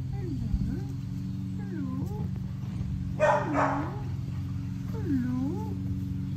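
Rescue puppies nearby give repeated high, rising whines and short yips, with one brief burst of sharper barking in the middle.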